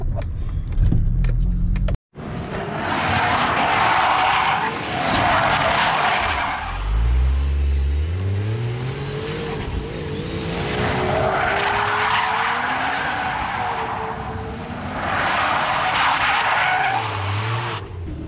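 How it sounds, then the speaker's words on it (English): A drift car skids and squeals its tires while doing donuts at a beginner drifting session, with a loud continuous engine roar and recurring bursts of tire screech that swell and fade in cycles, a brief cut near the start. "First time out here doing donuts and drifting, you know?"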